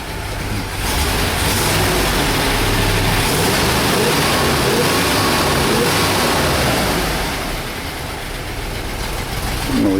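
A numbers-matching 1964 Corvette with a 365hp solid lifter V8 idles and revs as it warms up, giving a steady loud, rough broadband engine roar that eases slightly near the end.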